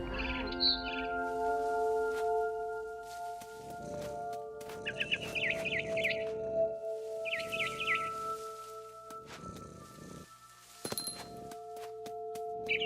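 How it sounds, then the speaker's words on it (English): A barn swallow chirps in repeated short bursts in the video game What Remains of Edith Finch, over a steady soft ambient hum and gentle musical tones. "It was a barn swallow going back to her nest."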